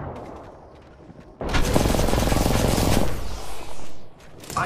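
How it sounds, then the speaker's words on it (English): Video game gunfire from a Wingman pistol match erupts abruptly after a quiet lead-in, a dense, loud barrage of shots lasting a few seconds before cutting off into scattered bursts. "Getting shot at."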